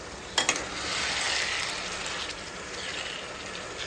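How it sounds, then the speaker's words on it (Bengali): Mutton sizzling in a pan for a Bengali kosha: a dense, steady frying hiss close by, with a couple of sharp pops at the start and no talking. "মাংসটা আস্তে আস্তে কষুক"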